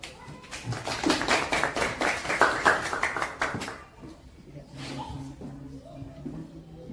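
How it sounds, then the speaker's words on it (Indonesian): A classroom of students applauding together, a dense burst of rapid hand claps lasting a few seconds before fading into quieter room noise and a voice. "Tepuk tangan dulu."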